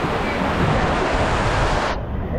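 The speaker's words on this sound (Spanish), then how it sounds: "Cae un chorro de agua de ahí arriba." A jet of water pours down from above at an amusement park ride, a loud continuous rushing wash that cuts off sharply near the end, with no voices.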